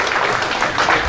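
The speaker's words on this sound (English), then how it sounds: "When they're exiting the stage, we hear a massive round of applause again." A dance competition audience breaks into a loud, massive round of applause with hollering as performers leave the stage, a brief dense burst up close.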